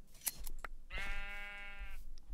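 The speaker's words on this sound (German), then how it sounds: "Ein graues Schaf." A single grey sheep bleats in Minecraft, one steady, buzzy, drawn-out call of about a second, close and clear, with a few soft clicks before it and no talk.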